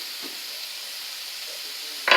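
Onions sizzle in bacon fat in a pan with a steady, close hiss, and a louder scrape of stirring bursts in at the very end.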